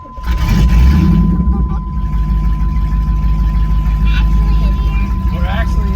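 1991 Pontiac Trans Am GTA V8 cranking and catching with a loud roar, then settling into a steady, deep rumbling idle, with people talking over it.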